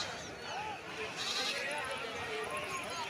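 Goats bleating at a weekly goat market in Jammalamadugu, several short wavering bleats rising over a busy crowd of people talking nearby, the animal calls moderately close and intermittent.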